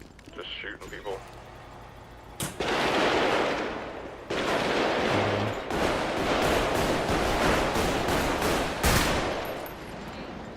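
Gunfire in a role-play video game, bursts of rapid shots and sustained firing after a quiet start, loud and close, with people talking over it.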